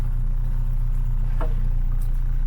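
A steady low engine drone of a car on the move, constant and fairly loud, with a faint brief click in the middle.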